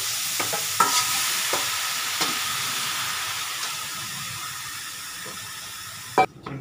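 Chicken pieces frying for adobo in a pan with crushed tomato, a steady close sizzle broken by scraping stirs and a sharp clank near the end, no talking.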